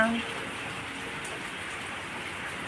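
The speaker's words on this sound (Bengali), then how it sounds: "এখন যে বৃষ্টি এলো আর যাচ্ছে না" Steady rain falling at night, a soft even hiss that continues throughout, fairly faint.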